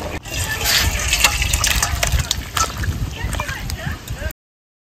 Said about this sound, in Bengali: আমি এবার এটা ঢেলে নিচ্ছি।